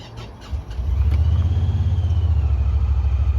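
A Honda Pioneer 1000-6 crew side-by-side with an empty fuel tank cranks on a start attempt, a steady, loud, close low mechanical churn that holds on without catching.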